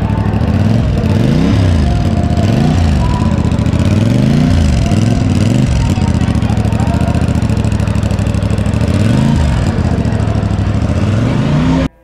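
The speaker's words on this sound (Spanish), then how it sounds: "vamos con el sonido de esta motocicleta" CF Moto CL-C 450 motorcycle engine running loud and close, a steady throbbing idle with repeated rising and falling revs, no talking over it.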